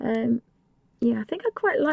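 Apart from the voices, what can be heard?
None of the usual background noises is heard.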